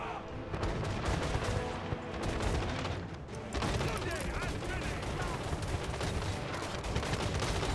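Artillery guns fire again and again in a fantasy strategy battle game against greenskin goblins, with loud, dense booms and crackling blasts packed close together over a rumbling battle din.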